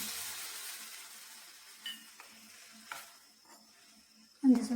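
Water added to a pan of ridge gourd frying with moong dal, a soft sizzle fading down, then a few faint clinks and a sudden louder burst of hissing near the end.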